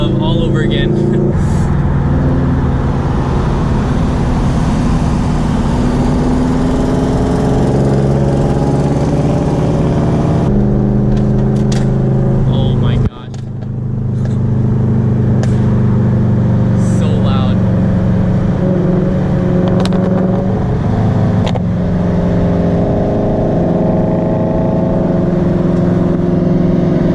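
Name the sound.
car rolling and driving on new wheels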